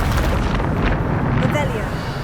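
Bombarda spell explosion in the Hogwarts Legacy video game, a loud, sustained rumbling blast with a roaring, windy wash filling the whole stretch, heard close with a voice calling out over it.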